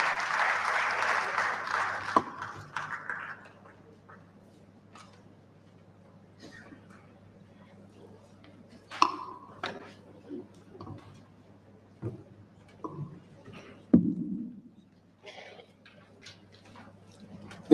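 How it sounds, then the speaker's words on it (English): An audience at an International Rural Women's Day event applauds briefly at the start, fading into a quiet room with scattered knocks and shuffling. "please another round of applause for Honorable Dr. Asabe Velita Bashir."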